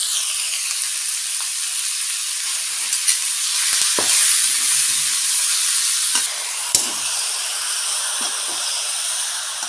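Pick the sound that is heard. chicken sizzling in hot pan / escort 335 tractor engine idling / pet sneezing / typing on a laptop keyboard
chicken sizzling in hot pan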